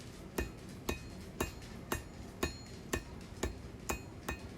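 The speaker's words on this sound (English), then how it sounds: "I've taken the hammer and started to work the bevels down a little bit" Hammer striking a small steel knife blade being hand forged on an anvil, about ten sharp ringing blows in an even steady rhythm, close and clear with no talk.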